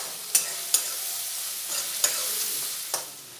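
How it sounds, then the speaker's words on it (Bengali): Onions frying in a pan after a tempering of spices, with a steady close sizzle broken by about five sharp scraping clicks as the spatula stirs them. "দিয়ে 2 মিনিট একটু পেঁয়াজগুলো ভেজে নেব।"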